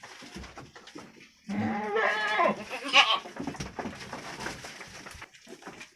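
A young goat only a few months old bleats loudly and close by in a wavering cry, with softer bleats and bird calls around it on a village goat farm.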